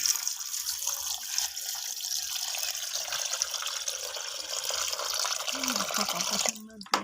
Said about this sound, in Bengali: ধুচ্ছে এখন জল দিয়ে মাছগুলো